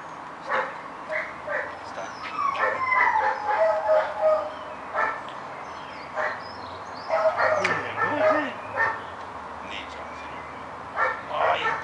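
A dog yips and barks in short, uneven bursts spread across the stretch, mixed with whimpering sounds, while people talk nearby at moderate volume.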